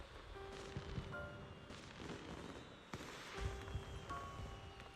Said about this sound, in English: There's the fireworks.